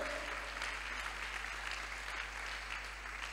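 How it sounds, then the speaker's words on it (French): A congregation at a church healing service led by Pastor Samson Abiola applauds in praise of the Lord, a steady, full wash of clapping that holds evenly throughout, with no talking on top. "Let's give the Lord a big hands"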